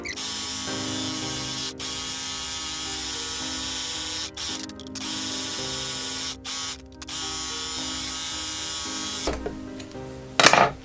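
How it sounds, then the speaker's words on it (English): An overlocker serges the edges of woven fabric, a steady mechanical motor whir with brief pauses between runs and a short rattle near the end, recorded close. "I'm going to overlock it all the way around all the sides"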